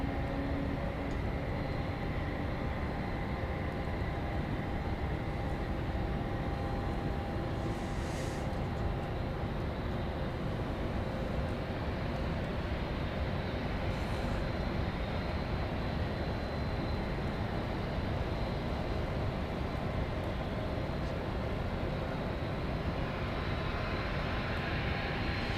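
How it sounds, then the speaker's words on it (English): A Dassault Falcon business jet roars steadily and at a distance at Dallas Love Field on a rainy morning. The broad, even rumble blends with the wash of rain. "A Dassault Falcon of some sort."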